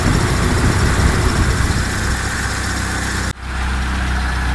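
Mitsubishi 4G13 car engine idling after an ignition timing adjustment, a loud, close, steady rumble that briefly dips near the end before settling back to an even idle.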